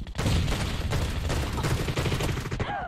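Video game gunfire rattles in rapid, dense bursts, close and loud, with overlapping shots running nearly nonstop.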